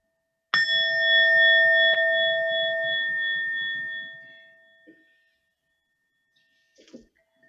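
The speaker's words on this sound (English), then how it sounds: "So let me just do 3 sounds of the bell, again to gather ourselves." A meditation bell is struck once at the opening of a group practice session, ringing out with a loud, clear, sustained tone that slowly decays over about four seconds, followed by a faint soft knock.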